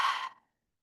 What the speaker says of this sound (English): Holding this posture, open mouth exhale.